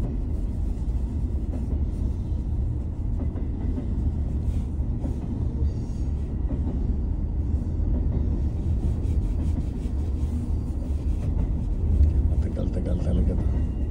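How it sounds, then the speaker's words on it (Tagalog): A long cargo train rolls past in British Columbia, Canada, with a steady loud low rumble and clatter of railcars throughout while a person talks over it. "Pinapakita ko lang sa inyo yung dito, yung cargo train dito sa Canada."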